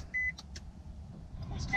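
A 2018 Nissan Leaf electric car starts up with a short electronic chime and a couple of clicks, then a quiet pause before a soft rising hum and further tones.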